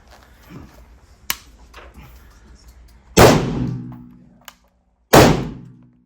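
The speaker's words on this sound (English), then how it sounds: "It has a weird reset from the trigger if not used to it." An SA80 L85 rifle being handled, a sharp single metallic click early on followed by two loud clacking snaps of the bolt or action, each ringing off briefly, close and isolated against near silence.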